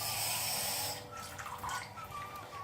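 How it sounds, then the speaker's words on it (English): Water splashes and trickles onto naan dough for a garlic cheese naan made without a tandoor, a close, steady wet running sound starting about a second in after a brief quieter moment. "turn it over and add some water."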